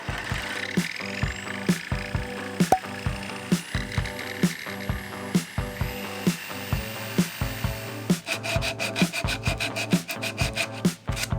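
A wooden closet shelf in a 2021 Ford Transit camper van being notched out with a hand tool, close rhythmic rasping strokes repeated steadily, quickening near the end.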